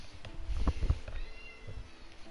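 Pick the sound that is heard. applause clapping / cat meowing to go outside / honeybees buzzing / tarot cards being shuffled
cat meowing to go outside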